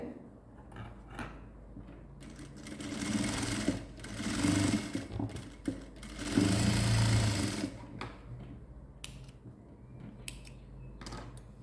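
A sewing machine stitches the shoulder seam of a gown made from an old silk saree, its motor whirring in several bursts with pauses and soft handling clicks between runs.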